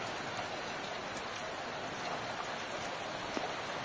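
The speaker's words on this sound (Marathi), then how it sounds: "चलो अब देखेंगे यहाँ पर बाहर बारिश का मजा" Outdoor rain falls in a soft, even patter, steady and fairly distant throughout, with no voices and no change in intensity.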